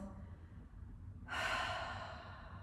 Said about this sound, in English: And then you can take some deep breaths out the mouth.